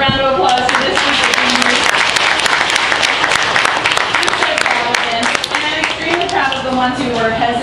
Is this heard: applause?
yes